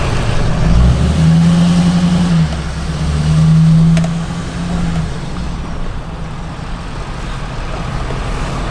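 A lifted pickup truck drives with four-wheel drive engaged, its engine droning low and steady with a rising and falling tonal whine, close and loud, with no talking.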